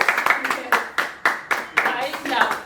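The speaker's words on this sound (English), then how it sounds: "clap for them" A small group of people clapping for two friends, sharp irregular claps close by with a steady rhythm of several bursts, mixed with some chatter.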